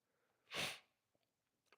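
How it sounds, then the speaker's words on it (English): A single short human sneeze, fairly close and clear, followed by a few faint sniffs and small noises in an otherwise quiet room. "Sneeze."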